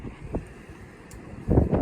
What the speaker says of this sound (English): That's a gust of wind.